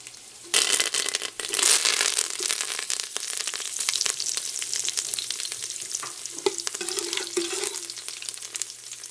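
Kalonji seeds and curry leaves dropped into hot oil for karhi, a loud close sizzle that bursts up suddenly and then settles into steady crackling and spitting throughout.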